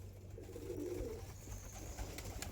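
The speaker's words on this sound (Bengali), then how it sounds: "এগুলো হচ্ছে আন্ধ্রার লাম্বাডি পায়রা, ফুলসিরার মধ্যে আছে আবার, খুব ভালো কোয়ালিটির।" Andhra Lambadi pigeons in a loft give a single low, faint coo over a quiet background hum, followed by soft rustling.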